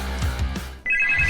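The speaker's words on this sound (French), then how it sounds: "Je vais appeler l'autre téléphone." A telephone rings in a room, a steady electronic ring starting partway through over a low background hum.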